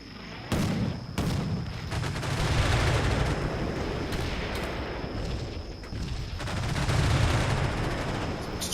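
Fast-firing vehicle guns in the war game Combat Mission: Shock Force 2 rattle in loud, dense bursts that swell and ease over several seconds, with booming impacts mixed in and no talking.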